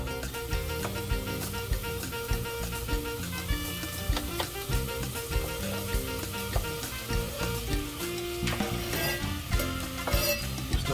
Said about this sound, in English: We're going to add the tomatoes now.